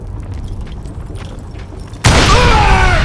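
Sudden loud blast of gunpowder and dynamite going off in the Wild West shooter Call of Juarez Gunslinger, erupting after a low ambient stretch and ringing out with a heavy rumbling tail.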